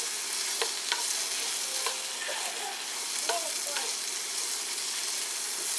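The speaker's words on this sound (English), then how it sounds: "Stir this up, and I'm going to let these fry up a little bit." Garlic squeezed into a pan for turkey tetrazzini fries with a steady broadband sizzle as a spoon stirs it, with several sharp scraping strokes cutting through the close, continuous hiss.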